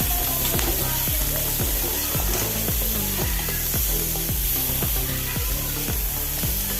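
Tomatoes go into a pan of sizzling cabbage and carrot for ragi upma, with steady loud frying and a regular scraping rhythm of stirring throughout.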